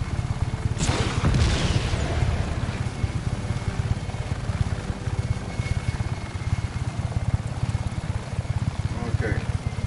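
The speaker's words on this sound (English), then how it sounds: "Oh, there's another helicopter there." A helicopter flies in the video game Just Cause 3, its rotor chopping steadily amid booms and bursts of gunfire, loud and continuous, with a player talking over it.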